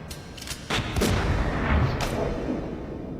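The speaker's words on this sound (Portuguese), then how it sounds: "E após levar um tiro, ele leva muitos tiros." Gunfire from the film The Matrix, as Neo is shot many times: a rapid volley of sharp, loud shots in quick succession followed by a booming, reverberant rumble.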